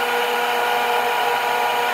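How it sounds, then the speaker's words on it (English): A blender whisks bulletproof coffee until frothy, giving a continuous, fairly loud high-pitched motor whir at a steady speed with no voices. "The key is you've got to use a blender."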